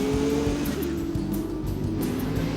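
Sports cars at the start of the 1999 Grand Prix of Atlanta at Road Atlanta, taking the final turn: a steady, loud engine drone with several overlapping engine tones rising and shifting as the field passes, with no talk.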